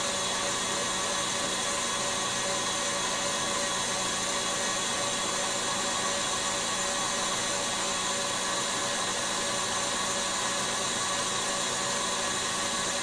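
An electric hand whisk whips cream for a Halloween mousse mixture, a steady, loud motor whir that runs without a break from start to finish with no voices.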